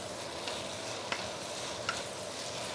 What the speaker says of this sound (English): by keeping the stir fry session slower, your bihun will not break